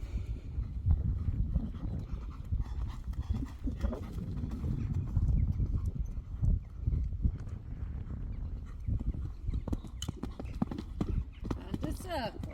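Hooves of Manny the horse clip-clop in a steady rhythm during a riding lesson, with an instructor talking over the footfalls and a faint whinny-like sound near the end.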